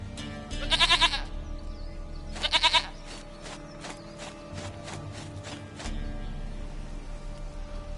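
Goat bleats in The Witcher 3, two bursts of rapid, wavering bleating close by, followed by a run of short clicks and soft footsteps over a low game ambience.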